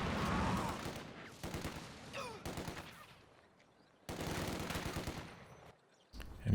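Gunfire and sniper shots in the real-time strategy game Company of Heroes 2, bursts of small-arms fire and cracks rising and falling in fairly quiet, distant-sounding battle ambience.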